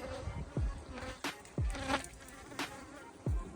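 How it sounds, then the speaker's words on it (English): Honey bees buzzing around hives, several loud close passes whizzing by the microphone over a quieter background hum. "All the field bees are landing there, so they'll be beautifully strong in the morning."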